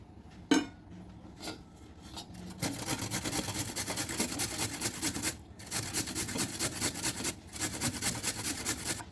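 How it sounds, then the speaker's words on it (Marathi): Fresh turmeric root is scraped over a hand grater into coarse shreds, with a few isolated strokes and then a fast, continuous run of rasping strokes, quiet and close, with brief pauses between bursts and no voices. "किसणीच्या साह्याने आपल्याला ओली हळद किसून घ्यायची आहे"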